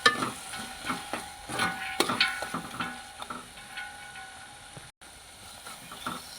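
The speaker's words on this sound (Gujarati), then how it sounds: "હલાવી નાખશું." Fire-roasted eggplant bharta (olo) being stirred in a pan, giving close scraping and soft sizzling strokes in an uneven rhythm that fade toward a brief quiet gap near the end.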